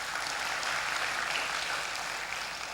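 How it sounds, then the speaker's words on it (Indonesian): Church congregation applauding during a sermon, a dense, steady wash of many hands clapping together from a crowd, sustained throughout and fading slightly at the end. "Berikan tepuk tangan buat Tuhan."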